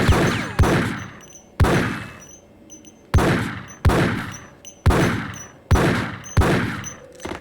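Gunfire in the Max Payne video game rings out as eight loud, separate shots at uneven intervals, each a sharp blast trailing off into a ringing decay, with no talking.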